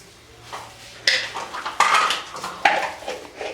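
Chana dal and spices being mixed by hand in a bowl, giving a series of sharp clinks and knocks against the dish with gritty rustling in between, close and fairly loud, with no talk.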